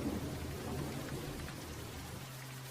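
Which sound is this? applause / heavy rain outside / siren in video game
heavy rain outside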